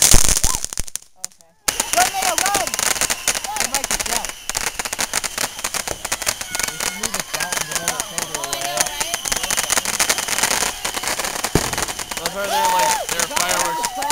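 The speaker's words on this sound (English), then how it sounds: "There are fireworks literally everywhere." Fireworks and firecrackers burst all around outdoors, a dense, continuous barrage of sharp crackling pops and bangs, loud and near, with brief pauses and voices mixed in.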